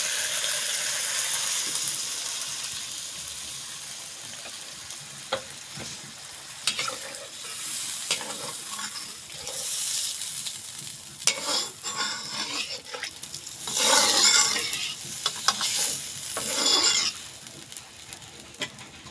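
Bottle gourd and chicken curry being stirred in a pan, with scraping spoon strokes and gentle sizzling, growing louder and busier toward the end with irregular clattering stirs.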